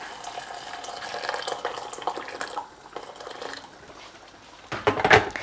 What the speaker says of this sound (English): I've boiled the kettle already. We'll pour that over there and let the pasta cook.